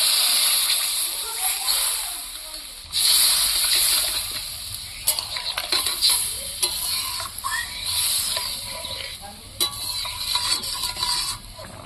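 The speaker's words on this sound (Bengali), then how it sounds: "মশলা ভাজা হয়ে গেছে এবার আমি জল দিয়ে দিচ্ছি" Water goes into a pan of fried spices, and a loud hiss and splatter burst out, followed by sloshing and stirring with scattered clicks of a utensil; a voice talks over parts of it.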